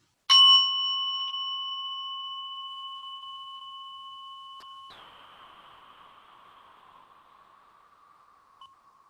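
A meditation bell is struck once, ringing out with a pure, sustained tone that slowly fades; a faint second touch near the middle briefly adds a soft shimmer as the ring decays, alone without voices.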